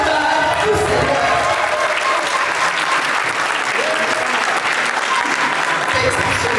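Loud, sustained applause from a standing conference audience at a book-signing event in Yaoundé, a dense wash of clapping filling the room without break.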